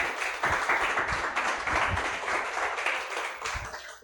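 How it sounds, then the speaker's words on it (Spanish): A crowd applauds steadily for a few seconds, dense clapping at moderate loudness that fades slightly at the end. "Yo le daría un aplauso al Señor"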